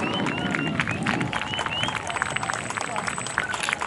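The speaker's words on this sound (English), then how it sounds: "Massive round of applause for Private Hobbs." A crowd at a seaside air show applauds and cheers for a landed parachutist, steady outdoor clapping spread across a large audience, with a voice speaking over it.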